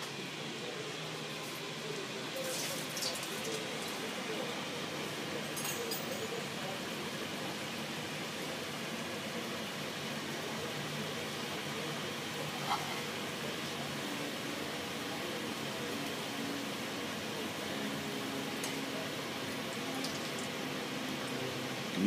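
Garifuna fry jack dough frying in hot olive oil, a steady, even hiss and crackle of bubbling oil that holds on without a break, with occasional small pops and no talk.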